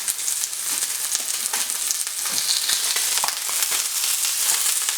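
Halibut fillet pan-frying in a hot pan, a steady dense sizzle with crackling pops running continuously for the whole stretch, close and fairly loud with no voices.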